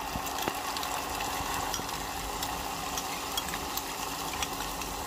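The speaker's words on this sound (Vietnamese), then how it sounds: "bây giờ thì tiếp theo là mình sẽ cho cái phần nước sốt này vào nè" Sauce goes into a pan of frying cabbage for a vegetarian dish, and a constant close sizzle fills the pan with faint crackles and small pops throughout, with no talking.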